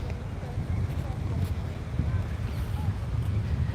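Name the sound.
wind on a beach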